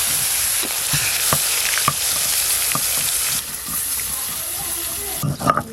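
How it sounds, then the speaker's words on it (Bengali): Pieces of a large pomfret, about 3 kg, fry in well-heated oil with a loud, crackling sizzle nearby, easing slightly toward the end as a few clattering knocks break in. "প্রথমে রূপচাঁদ মাছগুলো ভেজে নেব।"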